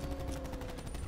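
Swordfish gun firing in Call of Duty: Black Ops 4, a fast stream of closely spaced, loud shots rattling steadily for about a second with no voices over it.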